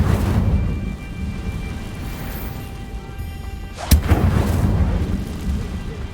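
Incendio fire spell cast in Hogwarts Legacy: a steady roaring, rumbling burst of flame with a sharp crack near the middle, loud and close, set against a continuous low game soundscape.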